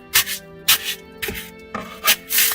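Cured Sika Pro Select spray foam sealant is chipped and scraped by hand, giving five short rasping scrapes at a steady, uneven rhythm, close and fairly loud, with no talking.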